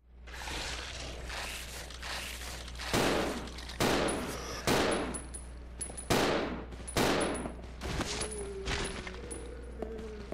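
Gunfire in Resident Evil 0 rings out as a string of loud, sharp shots spaced a second or so apart, with occasional quicker bursts over a low steady game background.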